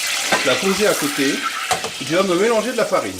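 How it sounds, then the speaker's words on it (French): Melted beef bourguignon fat sizzles in a saucepan with a steady crackling hiss running under continuous close talk. "Alors ça grésille, notre gras de bourguignon est bien fondu"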